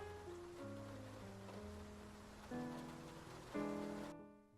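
Night rain in the video game Face Noir: a steady, soft hiss of falling rain continuing under sustained, slow music chords, ending abruptly.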